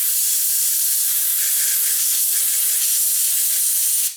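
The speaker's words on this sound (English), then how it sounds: "we can just blow the air out with the compressor" Compressed air from a shop air compressor blasts dust out of the tuning capacitor plates of a Fisher RS2007 receiver: a loud, steady, close hiss lasting about four seconds before cutting off abruptly, with no talking.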